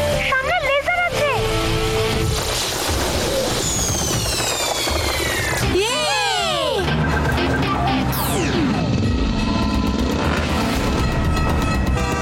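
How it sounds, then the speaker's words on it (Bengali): A train rushes past a crossing in a Bengali action cartoon, with rumbling wheels, a blaring horn, sweeping whooshes and clanging effects, loud and busy, and characters talk over it. "শিবা, সামনে ট্রেন ক্রসিং আছে।"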